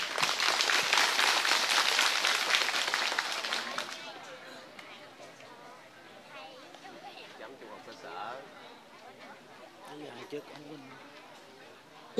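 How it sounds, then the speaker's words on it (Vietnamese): An audience at a children's Young Pioneer ceremony contest in Vietnam gives a loud burst of applause welcoming the judges, dense clapping for about four seconds before fading into crowd chatter and murmuring. "Xin chúng ta hãy chào đón ban giám khảo một tràng pháo tay thật to đi ạ."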